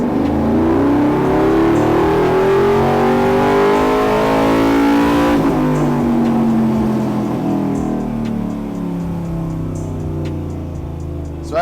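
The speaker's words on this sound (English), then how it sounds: "let's do a wide open throttle pull" A cammed 6.0L V8 swapped into an OBS truck roars through a wide open throttle dyno pull in second gear, with rising engine tones climbing steadily for several seconds, then a shift in pitch and a gradual ease-off, loud throughout.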